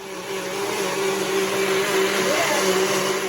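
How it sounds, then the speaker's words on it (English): A blender whirs loudly and steadily throughout, a dense motor roar with a constant pitched hum, churning frozen mango with water without pause. "We added some water to the mix, and now we're gonna blend it up."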